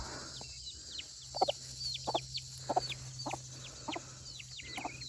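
Hens clucking with young chicks peeping on a homestead, repeated soft clucks in short bursts under steady high cheeping and a low background hum, no talking.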